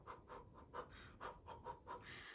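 A voice imitating quick, shallow panting breaths of pain after a laparoscopic sterilisation surgery, about ten rapid breaths in a steady rhythm, close and soft.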